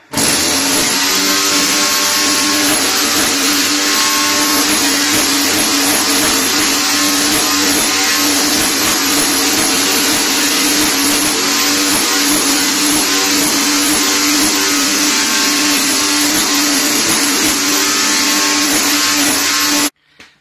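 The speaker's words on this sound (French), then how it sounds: "Puisque c'est du plywood, je vais y aller avec mon outil en angle." Angle tool cutting into a plywood subfloor, a loud continuous motorized whine and grind that holds steady for about twenty seconds, then cuts off abruptly.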